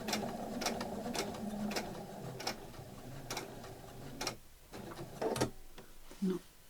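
A sewing machine stitching a fabric coin purse runs in short bursts of rhythmic ticking needle strokes, with a clicking pause and a soft thump as the presser foot is handled, under a quiet voice.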